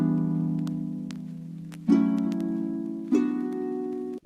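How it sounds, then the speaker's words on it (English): Sustained electric piano chords from a music sample play, with two new chords struck firmly about a second apart, ringing with a warm, mellow tone. "We start with the keys here."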